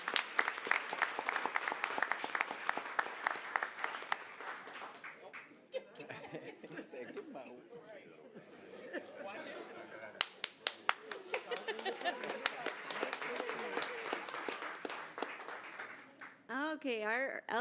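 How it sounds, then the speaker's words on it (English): Applause at a school board of education meeting honouring a student, bursts of close, crisp clapping from a small room with chuckles and murmured talk in the pauses, then clapping again. "Let's give him a big round of applause"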